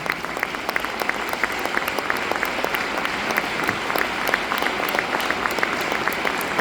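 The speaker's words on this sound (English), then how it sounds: "let's give all our Team 37 Pegasus a very big round of applause" A seminar audience applauds a team in a steady, dense burst of clapping that holds evenly throughout, close and lively with no voices rising above it.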